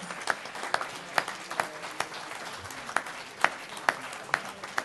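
A church congregation applauding during a French-language worship service, with scattered, moderately distant claps building into a loose, uneven round of applause.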